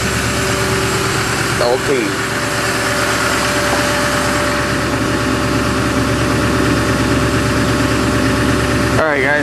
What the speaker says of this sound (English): So I hope you enjoy that cold start.